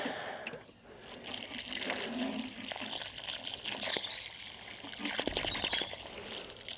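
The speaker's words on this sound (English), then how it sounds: "once you've got your hole, give it a good soak" Water is poured into a garden planting hole to soak dry soil, a steady splashing and trickling that runs close by for several seconds without pause.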